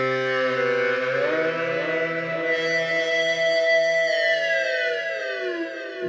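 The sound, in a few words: iPad synth app sound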